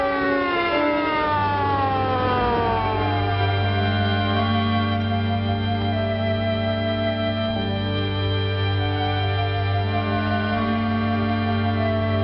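An ambulance siren on a New York City emergency call wails loudly and continuously, its pitch sliding down and then holding a steady droning tone, with no other sounds.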